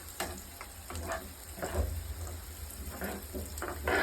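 A soft sizzle rises from a pan of chicken masala with turmeric and ginger frying while it is stirred, with quiet scrapes and stirring noises under the steady hiss. No one speaks.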